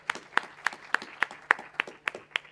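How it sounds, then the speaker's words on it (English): Audience applause at a DrupalCon Prague 2013 conference session, a short burst of about ten sharp, evenly spaced claps standing out clearly against a quiet room. "Applause for everyone."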